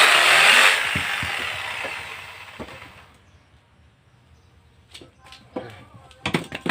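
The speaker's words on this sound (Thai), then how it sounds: "ใบเลื่อยจิ๊กซอผมมันหลวมนะครับ" A loud, harsh jigsaw buzz cutting aluminium with a loose blade for the first few seconds, then it winds down into quieter scraping, clicks and handling knocks.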